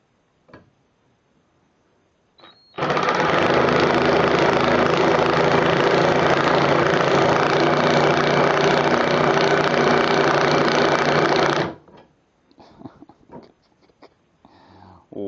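An 18 volt cordless 1/4-inch hex impact driver runs in one long, loud, steady burst of about nine seconds as it drives a screw into plywood, with quieter handling clicks before and after.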